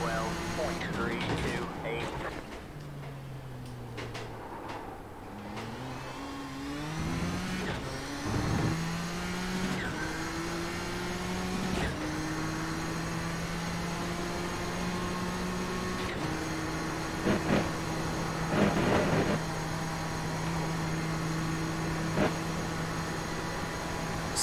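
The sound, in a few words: Nissan GTP race car engine at Spa in iRacing video game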